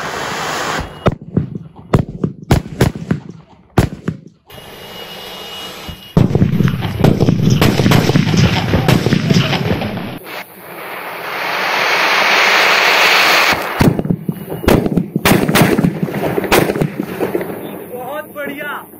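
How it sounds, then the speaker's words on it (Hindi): A rapid string of sharp foil firecracker bangs pops in close bursts during Diwali testing, with hissing fizz and crackle between blasts and voices heard intermittently. "तो भाइयों अभी हमने फोड़ा नाजी फॉइल"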